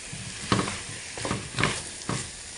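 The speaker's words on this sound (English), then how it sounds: "Give it a little stir in the mix." White bean soup is stirred in a pot, three or four soft, close scraping strokes over a faint simmering hiss.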